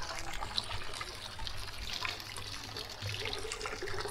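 Drinking water flows steadily from a public fountain in Zurich's old town, a continuous splashing trickle heard close up with faint street ambience and no speech.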